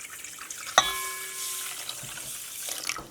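Room-temperature drinking water poured for a hydrogen peroxide seed-sprouting mix: a short clink, then a steady hissing splash of water streaming into a container for a few seconds, close and fairly faint.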